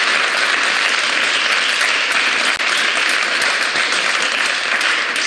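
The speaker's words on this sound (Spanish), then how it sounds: "vamos a dar un aplauso" A classroom of students gives a loud, sustained round of applause, dense and even from start to finish with barely a dip.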